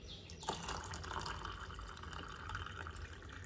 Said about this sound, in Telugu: ఇందులో వాటర్ యాడ్ చేస్తున్నానండి